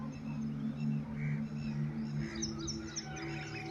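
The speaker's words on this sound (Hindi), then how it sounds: "और यहाँ पर कोयल और एक पक्षी और बोल रहा है" A koel and other birds calling outdoors among village farm fields, with high chirps and repeated call notes over a steady low hum, no talking.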